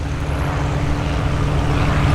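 A light RV homebuilt airplane drones steadily overhead at the AirVenture Oshkosh fly-in, its propeller engine a continuous, fairly loud hum with a low tonal buzz and no voices.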